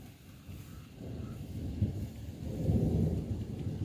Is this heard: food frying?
no